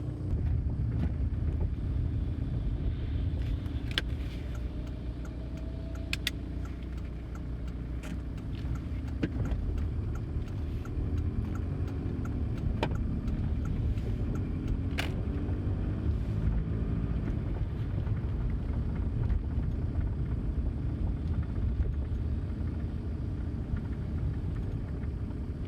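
A car driving to the grocery store, heard from inside the cabin: a steady low road and engine rumble with some wind noise runs unbroken for the whole stretch, and no one speaks.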